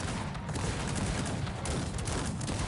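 Cannon grape shot and volley fire from a Cossacks 3 battle rage as a loud, continuous wall of crackling blasts, with no breaks and no voices.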